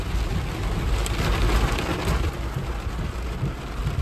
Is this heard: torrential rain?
yes